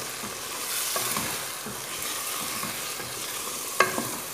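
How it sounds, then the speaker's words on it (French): Garlic and tomato mixture sautéing in a pan, a steady close sizzle throughout with occasional stirring scrapes and a sharp clink of a utensil near the end. "Donc je vais pouvoir faire revenir tout ça encore quelques minutes."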